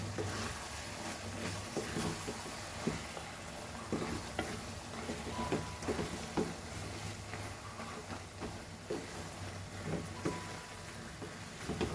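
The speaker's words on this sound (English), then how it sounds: "Let it fry with this nicely with its own flavor." Chicken is stirred and fried in homemade masala, giving a soft, continuous sizzle with light, irregular scraping and tapping of the spoon against the pan.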